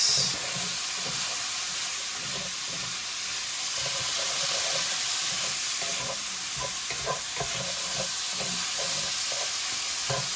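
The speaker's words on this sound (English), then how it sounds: "I'm going to immediately add the cabbage as well. And give that all a mix." Cabbage and pork sizzling in a stir-fry pan with vinegar, loud steady hiss of frying with rhythmic scraping as the food is tossed and stirred.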